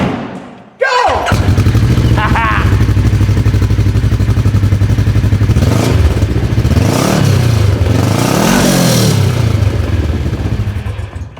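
Kawasaki KRX1000 side-by-side with a bolt-on exhaust fires up with a thump, then its engine idles loudly and is revved in several rising and falling blips, close by.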